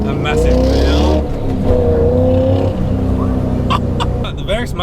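A heavily modified car's engine and exhaust through a Varex muffler, a loud close rumble that accelerates and then settles into a lower steady drone, with voices over the tail.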